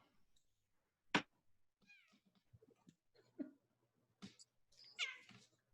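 Indoor cat meowing several times in short, separate calls, some sharp and some drawn out, fairly close but quiet, with no talking.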